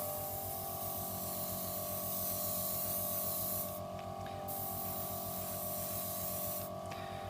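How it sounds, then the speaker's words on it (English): An airbrush lays a light mist coat of green paint onto a Zaku II plastic model kit, a steady close hiss over a constant compressor hum, briefly interrupted and resumed. "we're going to go with a light mist coat first of all, just to start off"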